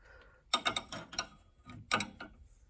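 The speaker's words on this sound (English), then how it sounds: "I'm trying to tighten down this tie rod end and it keeps spinning" Metallic ratcheting clicks from a wrench working a spinning tie rod end on a vehicle's front end, in two close, loud bursts of rapid clicks separated by a short pause.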